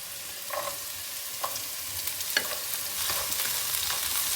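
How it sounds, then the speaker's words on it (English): Shallots fry in a hot pan for a beef and broccoli stir fry, a steady crackling sizzle with soft stirring scrapes and occasional pops, heard alone and fairly close. "I'm going to add my shallots now, but not the onions yet."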